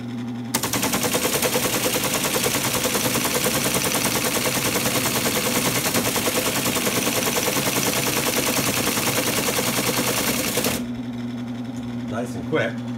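Altair 680 computer reading a program from paper tape, a fast, steady mechanical rattle that runs loud and continuous for about ten seconds before stopping abruptly, leaving a low hum.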